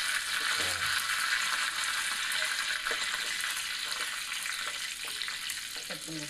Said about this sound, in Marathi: ह्याला फोडणी घालायची आहे. जिरे, कढीपत्ता आणि लाल मिरची.